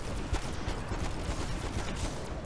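Dual-wielded pistols fire in Call of Duty Black Ops Cold War Zombies, loud and continuous: a dense, steady stream of rapid shots with sharp transient cracks scattered throughout and no audible voices.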